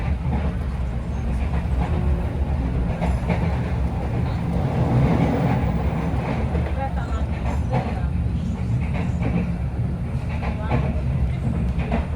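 Economy-class passenger train rolling along rails on a fast stretch of track in Indonesia, a steady loud low rumble that lasts throughout with faint rhythmic clatter and no voices.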